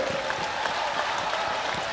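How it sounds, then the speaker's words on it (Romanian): Audience applause at a Romanian folk concert, a steady even wash of many hands clapping at moderate loudness for a short stretch. "vă rog aplauze!"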